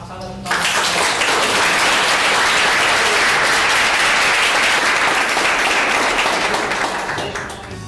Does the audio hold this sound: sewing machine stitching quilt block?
no